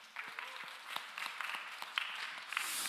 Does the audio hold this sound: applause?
yes